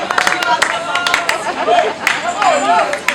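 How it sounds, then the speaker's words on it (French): Audience applause and clapping in a lecture hall, a dense patter of claps with crowd murmur and some voices over it. "on les applaudit"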